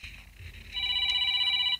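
Mobile phone ringing indoors: a steady electronic ringtone starts partway through and holds a bright, sustained tone alone for about a second before cutting off.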